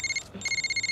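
A phone rings with a bright electronic trill, a short burst, a brief pause, then the pulsing ringtone resumes close by.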